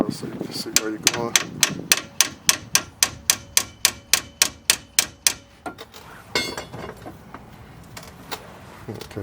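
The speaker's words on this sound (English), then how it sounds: "Tap on it with the hammer a little so you can see where you're going." A hammer taps a Chrysler 200 lateral arm in a rapid, even series of about twenty sharp metal strikes, close by, followed by a few scattered clanks.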